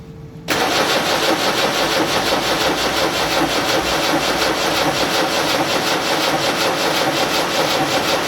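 A Land Rover Series 3 engine runs loud and steady with throttle on, a dense rough roar that starts abruptly and holds constant close by.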